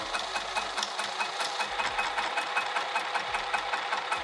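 Close, fast and even mechanical chatter as a sewing machine top-stitches a fabric coffee press cozy, running steadily throughout with no pauses.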